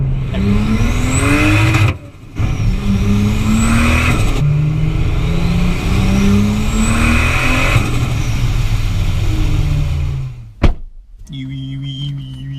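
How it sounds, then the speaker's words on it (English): Lexus IS200 turbo engine droning loudly with rising and falling revs, a brief cutout, then a sharp high screamer-pipe whistle near the end; talk runs underneath. "screamer pipe happens, and all that sort of good choo-choo noises comes out"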